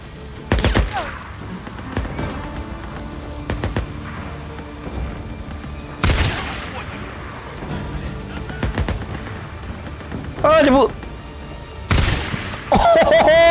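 Sharp gunshots crack out in scattered bursts amid loud game noise in Days Gone, with brief voices and whistling tones late on.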